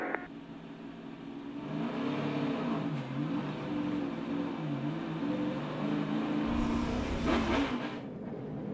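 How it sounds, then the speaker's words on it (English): A NASCAR race car engine drones loudly at a track, its pitch shifting as the driver lifts off the throttle, then a brief burst of broadband noise as it sweeps past, with no talk. "And you hear Darrell lift out of the gas right there."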